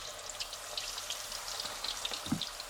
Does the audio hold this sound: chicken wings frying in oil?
yes